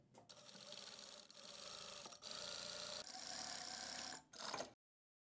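A sewing machine stitching fabric with its tension disc loosened, running in a steady mechanical whir through several continuous bursts separated by short pauses, close and alone before stopping abruptly.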